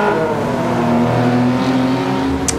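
Race cars, a Ferrari and a Nissan, battle in Gran Turismo 7, with engines holding a loud, steady, high-revving drone and a slight pitch rise, plus a brief high tick near the end.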